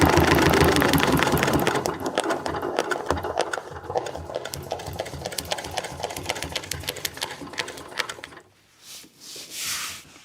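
A long-arm quilting machine stitches feathers on a Dizzy Geese quilt panel, a steady loud rapid mechanical whir and needle chatter that runs continuously, then stops, leaving a couple of soft breathy noises.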